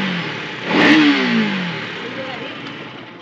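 A motorcycle engine starts and revs up once in a short burst, rising and then settling into a steady idle, close and fairly loud with a faint voice in the background.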